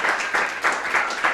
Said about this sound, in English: let's give Sandy, Keith, and Ron another round of applause